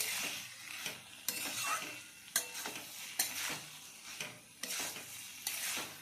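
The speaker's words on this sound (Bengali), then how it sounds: "আবারও ভালোভাবে মিশিয়ে নেওয়া হচ্ছে" Bottle gourd curry (lau ghonto) with coriander leaves being stirred in a pan, repeated scraping strokes of a spoon every second or so over a soft sizzle, close and fairly quiet.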